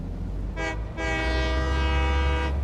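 A train in the Satisfactory video game sounds a loud, sustained horn with a brief break after a short opening blast, over a deep rumbling rail drone, close and with no talk.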